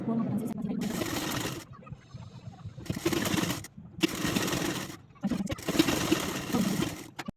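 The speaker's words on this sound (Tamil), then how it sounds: "இப்போ ஸ்ட்ரெயிட்டாக தையல் போட்டுக்கலாம்." Sewing machine running in bursts while stitching a straight seam on a blouse, several whirring stretches of steady mechanical chatter with short pauses between them and a voice talking during the gaps.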